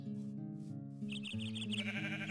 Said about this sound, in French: Oh, il y a des moutons.